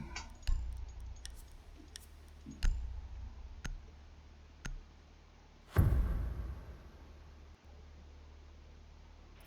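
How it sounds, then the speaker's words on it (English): Sparse, crisp keyboard clicks tap out at uneven intervals close by, with a heavier creak or thump of a desk chair midway, all fairly quiet against a faint room hum. "apologies for the background noises too, like my keyboard and my chair"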